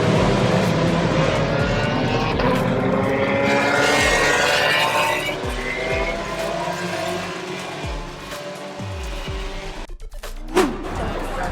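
Formula 1 cars racing past at a 2024 trackside spot, a dense continuous roar of high engines with pitch sweeps and passing whooshes, loud and close, fading slightly toward the end.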